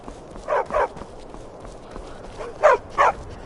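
A dog in the video game Skyrim barks twice, pauses, then barks twice more: short, fairly near yaps over a low steady background hum.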